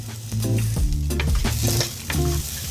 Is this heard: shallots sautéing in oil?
yes